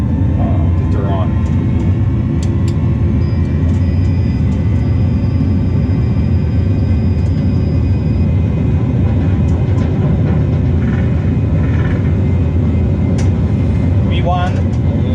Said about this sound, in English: V1. Rotate. And Take him. excellent. Take off.